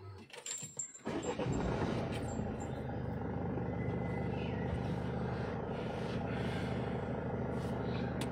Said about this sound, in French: Le moteur est bon